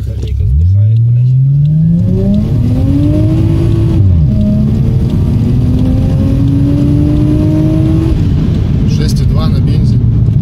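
A Toyota Chaser Tourer V accelerates hard from standstill on petrol, its engine rising loudly in pitch through a gear change at about four seconds and climbing again, with a roaring rev near the end.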